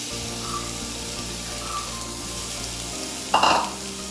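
Chopped vegetables tossed with coconut oil into a hot clay-style pan hiss in a steady, close sizzle, with a brief louder burst of spitting and stirring near the end.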